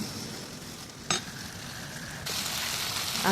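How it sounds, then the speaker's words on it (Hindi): Sliced potatoes go into a pan of cooked onion and tomato for a pea curry, with a steady sizzle and frying hiss, a brief clatter partway through, and a louder surge of sizzling near the end; no talking. "इधर टमाटर अच्छे से, प्याज टमाटर अच्छे से पक गए थे, तो इधर मैं डाल दूँगी अब आलू"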